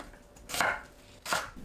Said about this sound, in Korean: 양파를 두툼하게 썰어줍니다.